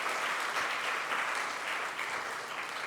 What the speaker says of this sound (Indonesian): Tepuk tangan ya untuk Zevanya.